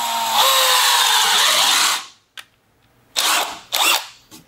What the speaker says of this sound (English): We're just going to drill to the edge of the tape, and we know we have our correct depth setting or where you drew your line on the paddle bit